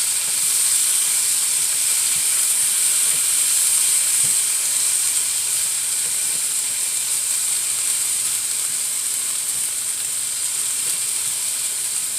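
Spices fry in a pan with a steady, bright sizzling hiss that holds even and close for the whole stretch, with faint clicks of utensils underneath.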